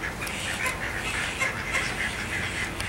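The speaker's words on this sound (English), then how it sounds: "they even got fuzzy chickens" Fuzzy chickens in a farm store, soft clucking and chirping calls scattered through a steady indoor murmur of background noise at moderate distance.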